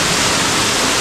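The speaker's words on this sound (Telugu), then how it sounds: "ఇక్కడ నుంచి పడే వాటర్ ఫాల్ మాత్రం నెక్స్ట్ లెవెల్లో ఉంటుంది" Katiki Waterfalls near Araku pour with a loud, close, unbroken roar of falling water, a dense hiss filling the whole moment with no voices.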